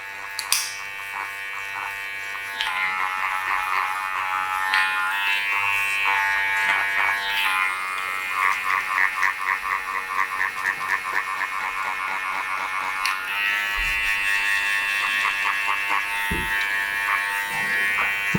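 Hair clippers fitted with a half guard buzz steadily while tapering a short summer haircut at the neckline, a close, continuous electric hum with rapid pulsing as the blade works through the hair and brief handling bumps near the end.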